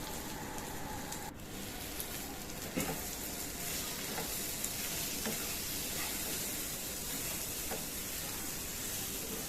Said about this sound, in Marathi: भेंडी चांगली तेलात परतून घ्यायची